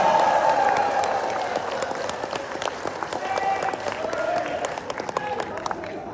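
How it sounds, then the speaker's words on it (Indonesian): An audience at a KAHMI regional meeting in Ternate applauds, a crowd clapping with distinct sharp claps over a steady wash, with some cheering voices and a sustained tone underneath, fading slightly toward the end. "Mari berdiri dan beri tepuk tangan untuk beliau."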